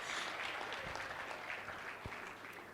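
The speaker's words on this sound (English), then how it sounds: "Give her a resounding round of applause." Applause from delegates at a conference opening ceremony, a faint, distant spread of many hands clapping steadily through the whole moment with a couple of dull thumps.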